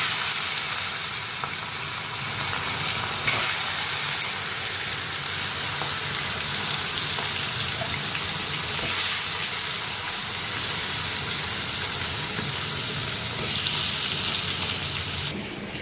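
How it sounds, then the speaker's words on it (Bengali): Fish frying in hot oil in a kadai, a steady loud sizzle and crackle running throughout with occasional brief sharper pops, no talking. "কড়াইতে তেল গরম হয়ে গেছে, ছেড়ে দেবো মাছ।"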